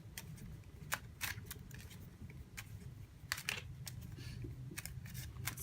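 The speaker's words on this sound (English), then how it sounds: "I'm going to pull some advice cards, or 1 or 2 cards from the playing cards deck here." Cards drawn from a playing card deck for a tarot reading, soft quick flicks and slides scattered irregularly over a quiet room tone, close and faint.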